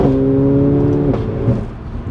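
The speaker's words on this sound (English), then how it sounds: "That noise on the upshift" A Mercedes A45 AMG engine hums with a steady tone, then drops sharply as the gear shifts up and settles into a lower, rougher note.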